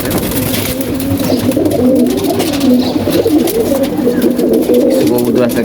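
Coloured domestic pigeons at a home loft coo in a low, continuous, overlapping murmur close by. A person talks over the birds.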